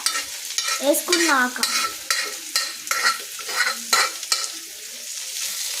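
A spoon scrapes and stirs food sizzling in a frying pan, with repeated rhythmic strokes, some with a ringing metallic squeak, over a constant fry hiss, close and loud with no talk.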